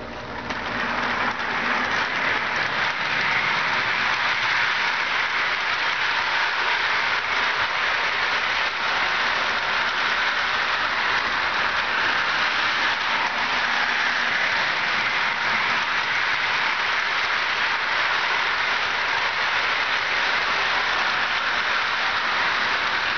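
A Williams Pennsylvania GG1 model electric locomotive runs steadily on track, a continuous even whir and rumble of motor and wheels, close and fairly loud with no pauses.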